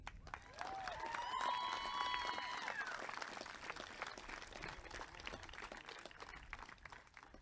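A crowd at a 2020 North Miami graduation ceremony applauds in a continuous, fairly faint wash of clapping heard from a distance, with scattered voices and cheers mixed in.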